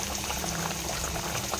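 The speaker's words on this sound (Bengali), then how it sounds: "টকবক টকবক টকবক করে ফুটছে মাছ।" A fish curry with cardamom, cinnamon, bay leaf and onion boils in a pot, giving a close, continuous bubbling simmer at a low, even level.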